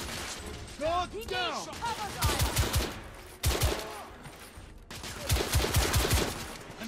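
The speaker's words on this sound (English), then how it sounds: "Look at that amazing shooting." Rapid bursts of gunfire in The Order: 1886, in loud repeated volleys mixed with impacts, under excited voices talking over the shooting.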